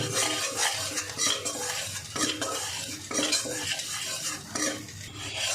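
Flour frying in butter over low heat for a butter garlic potato sauce, stirred steadily, with a soft continuous sizzle and repeated scraping strokes of a utensil against the pan.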